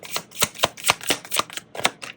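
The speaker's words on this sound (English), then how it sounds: "Look, these cards don't want to shuffle." Tarot cards being shuffled in quick, crisp riffling bursts, close up, about ten sharp flicks in a loose rhythm.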